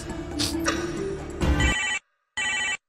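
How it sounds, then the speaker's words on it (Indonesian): A mobile phone ringtone for an incoming call chimes loudly and close, a bright electronic melody that breaks off and returns as a short repeated burst, with no talking. "Wah, gua dapat telepon nih guys, bentar guys ya."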